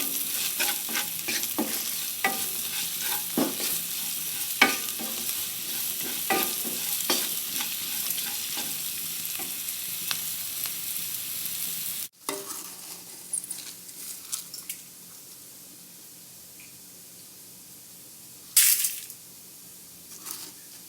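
Beans and carrots with salt being stirred in a pan give a crackling sizzle with frequent scrapes of a spoon, which thin out to quieter, sparse stirring after a brief break; no speech.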